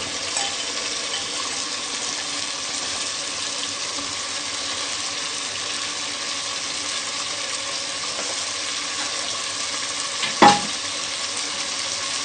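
Bottle gourd and softened tomatoes frying and being stirred in a pot for a Pakistani lauki gosht, a steady even sizzle throughout with one brief clatter of a spoon near the end.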